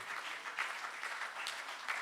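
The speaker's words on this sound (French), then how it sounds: "on peut l'applaudir" Church congregation applauding during a French Pentecostal-style celebration service, steady dense clapping throughout, moderately distant and fairly quiet with no speech.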